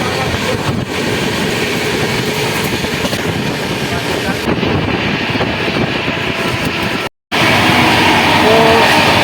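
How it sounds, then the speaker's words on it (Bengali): Sleeper-class train on the Howrah to Dehradun route running on rails out of Bareilly junction toward Moradabad: a loud, steady rumble and rattle of wheels and carriages throughout, with a brief cut near the end. "বারেলি স্টেশন থেকে ট্রেন এখন ছুটে চলেছে মুরাদাবাদের দিকে"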